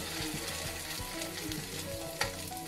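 Sardine burger steak patties frying in hot oil, a close, even bubbling sizzle with a faint rhythmic stirring texture and one small sharp tick near the end, without speech.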